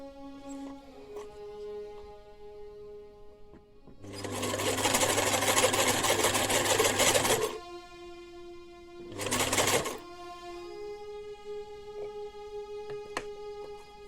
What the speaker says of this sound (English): if you haven't done a button on the machine, you have to put the machine in a darn mode, not sewing mode